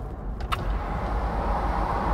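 Power window of a 2013 Toyota Land Cruiser closing, a continuous motor hum with road rumble beneath, capped by a couple of brief clicks early on as the glass seals, no speech.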